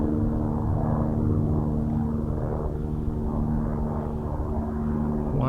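A helicopter flying overhead in a remote mountain area, a steady, loud droning engine hum with strong low tonal bands, continuous throughout, no voices.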